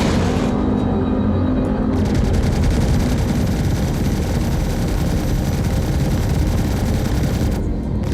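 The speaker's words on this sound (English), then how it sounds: "That might have been the Gladius shooting at me with something" Rapid, dense weapons fire from a Gladius starfighter in a Star Citizen space battle, a loud continuous barrage of shots and blasts that runs almost unbroken for several seconds.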